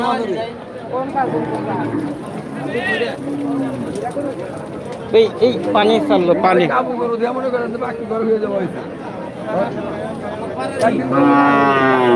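Heifers and crossbred and local cattle at the sprawling Kaitla cattle market in Tangail, with loud, drawn-out moos rising repeatedly over a busy crowd and nearby talking voices.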